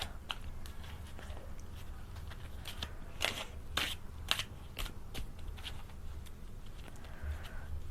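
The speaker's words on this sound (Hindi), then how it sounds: "I'm going to shuffle the cards." Tarot cards shuffled by hand, a run of crisp riffling bursts and soft slaps over a low background hum, with the loudest flurries in the middle, close and moderate.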